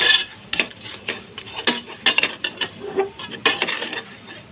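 A spoon scrapes and clinks against a pudding pot while oil and sugar are stirred into caramel, giving irregular metallic taps and scrapes with a faint sizzle underneath.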